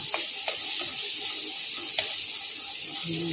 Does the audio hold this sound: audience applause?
no